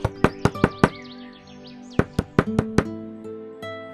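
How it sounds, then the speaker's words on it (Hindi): Knocking on a wooden door in a Hindi animated story: a quick run of four sharp raps, a short pause, then a second burst of several raps, close and loud, with a faint tonal background. "दोनों दरवाजा खटखटाते हैं।"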